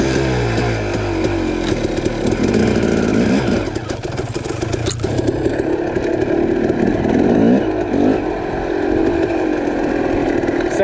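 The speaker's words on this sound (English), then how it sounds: "let's try to ride this technical uphill where I need to be in a first gear" KTM 300 dirt bike engine climbing a technical uphill in first gear, a loud, raspy two-stroke drone held at low revs with small throttle changes and clattering across the whole stretch.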